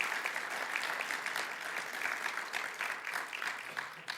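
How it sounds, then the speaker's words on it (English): Audience applause after a public astronomy lecture: a short burst of many hands clapping at moderate distance, steady and fairly soft, with no voices over it. "how about one final round of applause for Dr. Grace Wolfchick"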